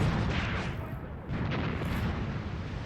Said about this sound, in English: that's my mortars zeroing in